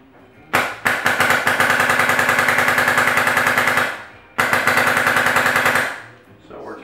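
Etek 4 paintball marker firing in two rapid bursts, a fast, even stream of sharp pops at close range with a brief pause between volleys.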